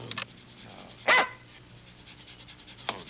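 A dog in a 1980 television commercial for Coast deodorant soap gives a few sharp, separate barks, one loud and close in the middle and fainter ones at the start and end, over a quiet room.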